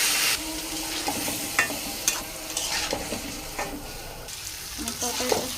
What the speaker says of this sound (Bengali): রসুনটা দিয়ে ভালো করে লাড়াচ্ছি